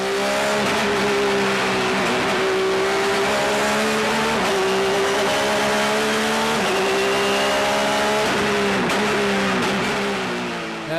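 Race cars at the 24 Hours of Dubai endurance race roar around the circuit in 2008, with a loud, sustained engine drone and shifting revs and gear changes filling the whole stretch without talking.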